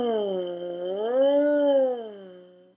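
A lip-buzzed siren on a trombone mouthpiece: one steady, reedy tone that slides smoothly up in pitch, peaks and glides back down over about three seconds, close and fairly loud, with no talking.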